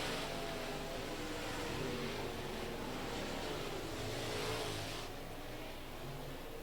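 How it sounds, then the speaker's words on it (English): USRA Modified race cars circling a dirt oval during a heat race, a continuous broad engine roar with rising and falling revs as the pack passes, steady and fairly loud with no talk. "just 2 to go here in heat race number 1 for the USRA Modifieds"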